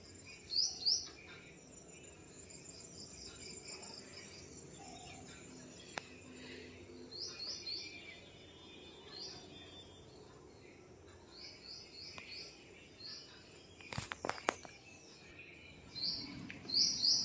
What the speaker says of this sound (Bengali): আর্লি মর্নিংয়ে যে পাখির আওয়াজ এত সুন্দর।